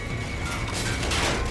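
Mechanical clicking and ratcheting of a weapon being reloaded in the shooter game Call of Duty: Infinite Warfare, heard up close over a steady dense wash of game noise with a brief crashing swell near the end.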